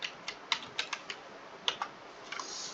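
Typing on a computer keyboard while building a calculator program, with about a dozen sharp, irregular key clicks, some in quick pairs, close and moderately loud in a quiet room.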